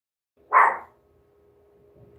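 A single sharp dog bark rings out close and loud, followed by quiet with a faint steady hum.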